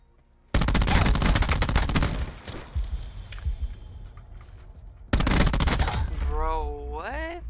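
Bursts of rapid automatic gunfire in a Black Ops 4 multiplayer match, loud and close, with sustained fusillades in two long stretches and a player's voice briefly heard near the end.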